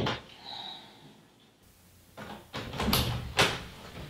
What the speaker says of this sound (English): Can you just shut the door for me?